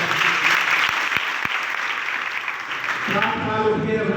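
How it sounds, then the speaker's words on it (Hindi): A school audience applauding loudly and steadily, a dense wash of many clapping hands that carries on throughout, with a voice rising over it toward the end. "एक जोरदार ताली आप उनके लिए आप लोग"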